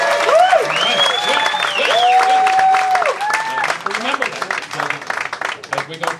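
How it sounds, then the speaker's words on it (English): An audience applauds at a live magic show, broad crowd clapping with some cheering and whistles on top, loud at first and thinning out toward the end. "The program for your edification is noise in the form of applause"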